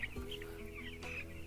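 Poultry chickens on a broiler farm cluck softly and intermittently, a few short calls heard faintly over low background hum.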